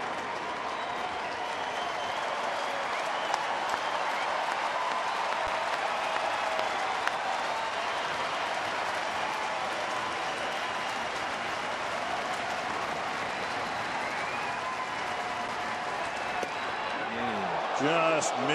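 Sellout ballpark crowd at a Cleveland at Minnesota baseball game, fans on their feet applauding and cheering in a steady, dense roar that runs throughout, with a broadcaster's voice talking over it.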